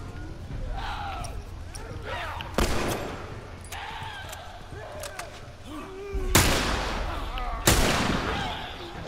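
Gunfire in The Last of Us Remastered: a few sharp, loud single shots ring out at spaced intervals, two close together near the end, while someone talks between them.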